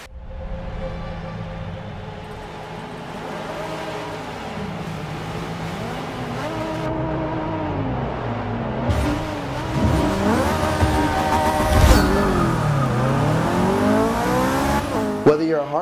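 Racing car engine from a video game played on a Logitech G920 wheel, revving and shifting through rising and falling pitch sweeps for the whole stretch, with a sharper burst near the end and continuous loud engine drone.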